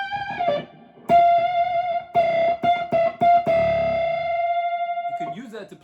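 An electric guitar played loud through a distortion pedal with screaming bends, a long sustained held note ringing with rich harmonics after choppy strummed hits, alone without speech.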